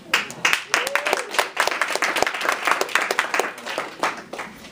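Team meeting audience applauds a colleague with dense, steady clapping from many hands filling the room at close range, lasting several seconds before tapering off slightly at the end.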